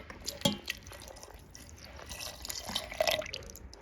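Milk is poured into a container of strawberries and ice for a homemade strawberry milkshake, making soft splashing and trickling sounds with a few brighter drips, fairly quiet and close.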